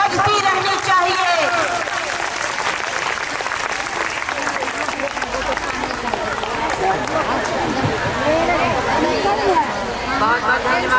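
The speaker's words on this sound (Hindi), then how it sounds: "इनके सम्मान में, आत्मसम्मान में तालियां की गड़गड़ाहट बजती रहनी चाहिए।" A crowd of Anganwadi workers at a protest sit-in at Eco Garden, Lucknow, claps in a loud, continuous rattle while voices and babble carry through it.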